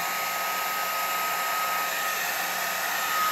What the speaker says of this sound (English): so with the blow dryer, I feel like, so you get it to dry